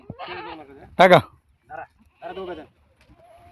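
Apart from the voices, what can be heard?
goats bleating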